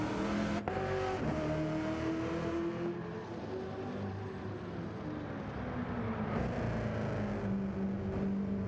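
A V8 Supercar pulls out of the pits in a racing game, its engine droning steadily and climbing through revs, with a sharp click near the start and a gear change midway.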